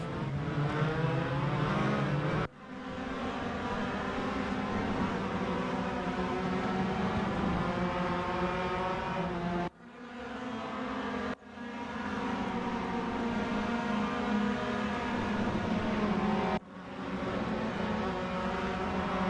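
Formula race car engines from the RaceRoom video game at the Hungaroring roar loudly and continuously, their pitch rising with revving and dropping sharply a few times at gear changes or braking, as several cars run in single file.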